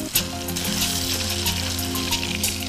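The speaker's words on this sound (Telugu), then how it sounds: "సో మిర్చి కూడా వేసేసుకున్నాం అందులోనే, బాగా ఫ్రై అయిపోయినాయి" Green chillies and cumin seeds frying in hot oil while making spinach fried rice, giving a steady, close sizzle with a faint tonal hum running underneath.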